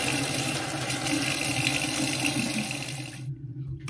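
Tap water runs into a sink while someone rinses micellar water off their face, a steady close splashing stream that stops abruptly near the end.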